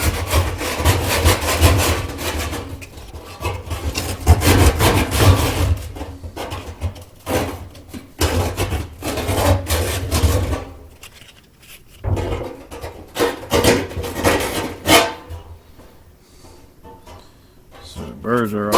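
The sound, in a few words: sanding burrs off with sandpaper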